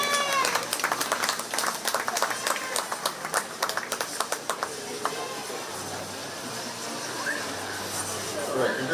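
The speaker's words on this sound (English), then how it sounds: "Let's give them a big round of applause." Applause from the audience at a 4-H sheep and goat show at the Shelby County Fair. Scattered clapping of moderate loudness, mixed with crowd murmur, that thins out and fades over several seconds.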